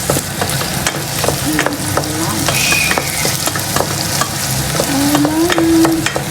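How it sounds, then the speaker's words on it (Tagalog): Onion sautés for lunch with a loud, continuous sizzle right up close, broken by repeated sharp clacks and scrapes of a utensil stirring against the pan, and no voices. "Binigisa ko na yung sibuyas"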